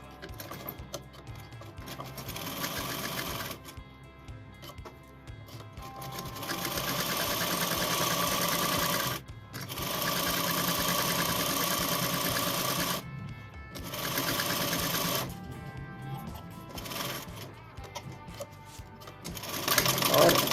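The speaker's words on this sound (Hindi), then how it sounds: "इतना ये 3 साइड्स में सिलाई लगाएंगे" A sewing machine stitches seams along three sides of a reversible jacket with a notched collar, running in long, steady, close whirring bursts with a few brief pauses between them.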